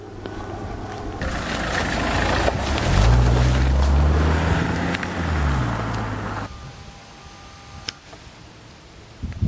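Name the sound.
loud motorbikes passing by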